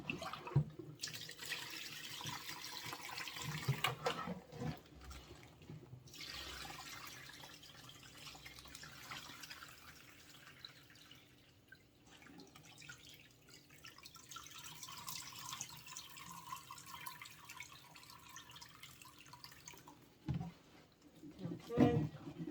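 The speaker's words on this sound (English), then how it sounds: "Now let me empty out this first rinse." Rinse water from washing collard greens is poured out of a basin into a sink, bursts of splashing and running water alternating with quieter gaps and a few clunks, heard up close with some talk.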